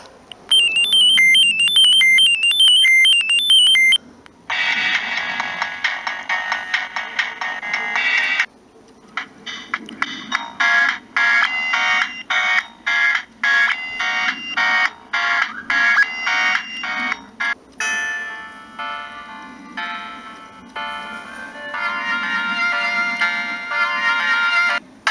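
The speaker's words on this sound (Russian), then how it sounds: "Встроенные рингтоны от Vodafone свои есть." Built-in Vodafone ringtones on a Siemens C6V mobile phone, a series of electronic polyphonic melodies played one after another through the small phone speaker, loud and tinny, with short pauses between tunes.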